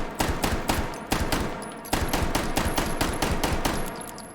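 A Dardick carbine fires fifteen rounds inside the H3VR virtual-reality shooter: sharp, evenly spaced gunshots crack in quick succession, loud and close, with no talking.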